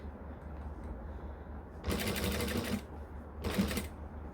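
A sewing machine stitching slowly, two short bursts of rapid mechanical clatter separated by quiet room hum, fairly close and moderately loud, with no talk.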